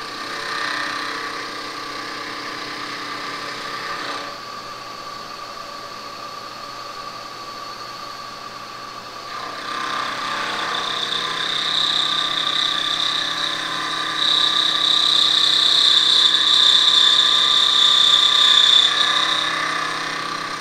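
A machine cutting metal while a homemade Mil-Tec chamfering tool is made, a steady close mechanical whir with a hiss that rises and grows louder partway through, then a brighter high whine near the end. No one speaks.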